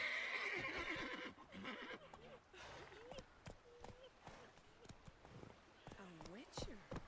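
A horse whinnies in The Witcher 3: Wild Hunt, with clip-clop hooves and game sounds around it, while voices talk over parts of it.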